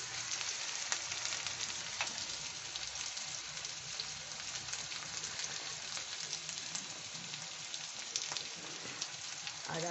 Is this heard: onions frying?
yes